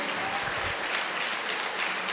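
A church congregation claps steadily together at a sermon, dense continuous applause lasting the whole short moment with no talk over it.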